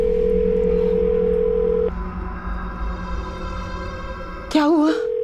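Phone ringing tone heard while placing a call in a Crime Patrol drama scene, a steady tone that cuts off partway, followed by a brief voice at the end.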